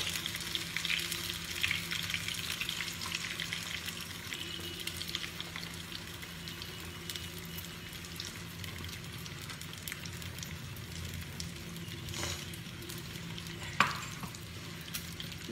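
Beaten egg poured over pabda fish frying in a pan, giving a steady soft oil sizzle with faint crackles and a small clink near the end, with no talking.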